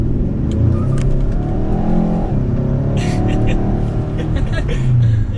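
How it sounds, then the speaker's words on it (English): A Hyundai Sonata N Line revs hard under acceleration, its engine note climbing and holding steady inside the cabin, loud and continuous with some road and wind noise throughout. "you can hear that engine under the higher RPM there"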